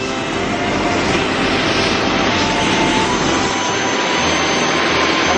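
Helicopter rotor and turbine roar steadily and loudly at close range throughout a snow landing on Franz Josef Glacier, New Zealand, a dense unbroken wash of engine noise with no voices.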